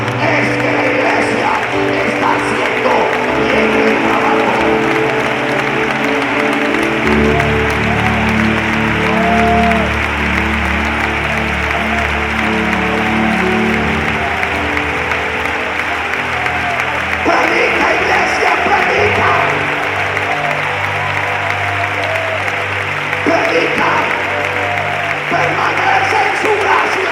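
A church congregation applauds steadily and loudly for the full stretch, dense clapping swelling again near the end, with scattered voices in the crowd.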